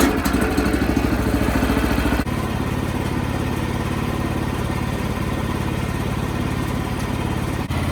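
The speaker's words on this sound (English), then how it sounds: "Sawmill warming up here just a tiny bit." A Wood-Mizer LX25 sawmill engine idles steadily while warming up, a close, even, clattering rumble that runs unbroken throughout.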